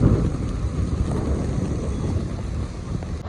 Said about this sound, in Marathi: पाऊस पडायला लागला आहे बघा